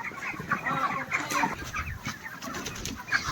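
Chickens inside a poultry shed cluck and chatter in overlapping calls, close and busy, with short sharper squawks scattered throughout.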